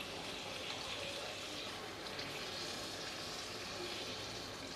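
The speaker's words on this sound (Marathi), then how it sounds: "आता यामध्ये पाणी घालूया" Plain water is poured into a pot of prawn curry with mixed vegetables and drumsticks, giving a steady, continuous broadband splash that stays even throughout with no talk.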